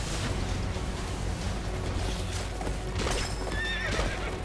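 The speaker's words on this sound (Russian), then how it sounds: "Конь!" In the video game Attack on Titan: Wings of Freedom, a horse whinnies with a rising, wavering call over the steady clip-clop of hooves. It is close and loud, with no talking.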